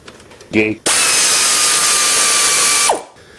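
A power tool or ratchet runs in one long steady burst for about two seconds while the air intake assembly and battery come off a car during a clutch replacement, preceded by a short clack of metal.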